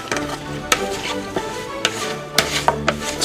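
Sliced pears tossed with lemon juice in a bowl, producing a series of sharp close clacks and soft scrapes at an uneven rhythm.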